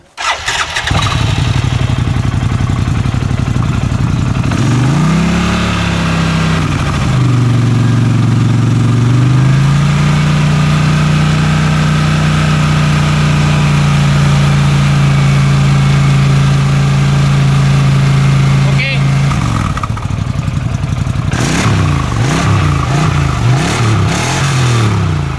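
An Arctic Cat Wildcat side-by-side with its stock exhaust starts up and runs, idling with a steady deep rumble, briefly revving early and again near the end, loud and close throughout with no speech.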